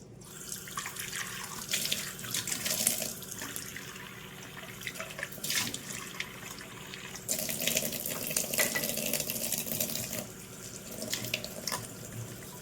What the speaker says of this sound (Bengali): পাতাগুলো একটু ধুয়ে দিই